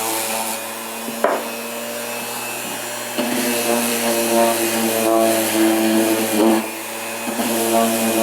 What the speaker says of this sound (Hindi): मैं इसकी साइड पे भी रेगमाल लगा लेता हूँ, यहाँ पर सैंडिंग कर लेता हूँ ये भी।